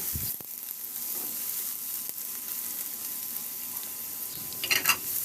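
Onion and garlic sautéing in a pan, a quiet, steady sizzle with occasional stirring scrapes and a few louder clatters near the end.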